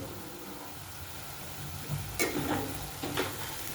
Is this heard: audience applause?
no